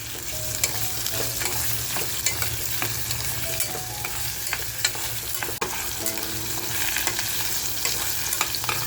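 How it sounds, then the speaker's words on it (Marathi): Potato and carrot pieces frying in a pan for fish pav bhaji, with a steady close sizzle under repeated scraping stirs of a spoon against the pan, no voices. "बटाटा सुद्धा आपला हलकासा फ्राय झालेला आहे तर जो गाजर घेतला आहे तो गाजर टाकते"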